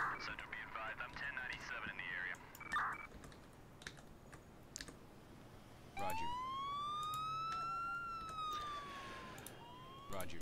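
Keyboard typing clatters early on, then an emergency vehicle siren in the Emergency 4 firefighting game rises into a long, clear, sweeping wail that holds and bends over several seconds.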